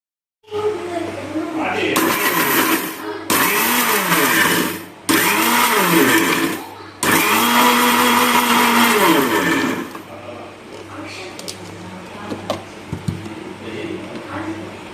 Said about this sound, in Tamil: சர்க்கரையும் ஏலக்காயும் பொடிச்சு நம்ம சேர்த்துக்கிறோங்க